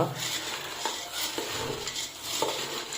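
Churumuri puffed-rice snack mixed with oil by hand in a bowl, giving soft continuous rustling and crunching with a few louder scrapes and taps, close up and without talking.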